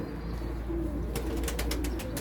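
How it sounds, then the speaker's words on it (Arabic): A pigeon coos softly and steadily over a constant low hum, with a few sharper rustling or flapping sounds near the end. "طبعا هذا هو الطير"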